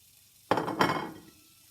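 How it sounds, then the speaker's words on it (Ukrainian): A sudden clatter and hiss as sliced bell pepper drops into a hot frying pan, followed by a second burst of sizzle that fades away. "беремо нарізаний болгарський перець, відправляємо на сковорідку"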